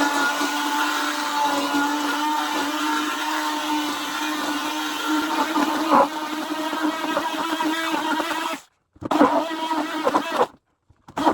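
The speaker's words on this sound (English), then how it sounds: "Now we blend. For this step, you'll need your immersion blender" An immersion blender churns lanolin deer repellent in a bucket, a loud continuous motor whine with shifting pitch as it works the mixture, cutting out briefly twice near the end.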